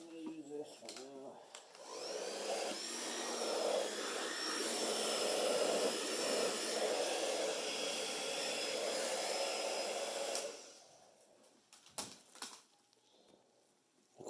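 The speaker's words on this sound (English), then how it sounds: "that's why I don't use the blow dryer, because it screws everything up" Blow dryer used on alcohol ink, a steady whooshing roar that starts after a couple of seconds, runs for about eight seconds and cuts off, followed by light tapping and handling sounds.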